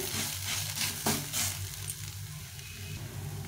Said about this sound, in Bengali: জলটাকে এরকম ভালো করে ভেজে ভেজে ভেজে ভেজে শুকিয়ে নিতে হবে